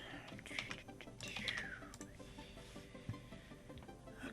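A password is typed into a WordPress admin login on a computer keyboard, with quick, faint, close key clicks in short irregular bursts over a quiet room.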